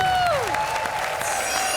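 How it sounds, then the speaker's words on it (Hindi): A studio audience at a comedy circus show applauds, a steady wash of clapping under a sustained musical tone and sweeping sound effect. "एक बार फिर तालियां पारुल और मस्की के लिए।"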